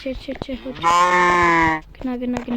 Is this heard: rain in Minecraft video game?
no